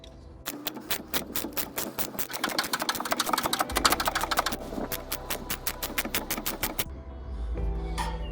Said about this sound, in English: just get my socket and just slowly tighten them up, bit by bit, just on each side, just nice and evenly